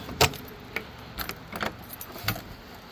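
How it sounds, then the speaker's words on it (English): A bunch of keys jangles in several short metallic bursts, near and fairly crisp, with quiet background noise between the shakes. "It's one of these keys here."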